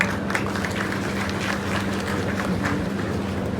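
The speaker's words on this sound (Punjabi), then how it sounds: "ਇਹ ਜੀ ਭੈਣ ਲਈ ਇੱਕ ਵਾਰ ਜ਼ਰੂਰ ਤੁਸੀਂ ਤਾੜੀਆਂ ਲਾਓ" An audience claps steadily and evenly throughout at a village event honouring a sarpanch, a dense wash of applause with no pauses.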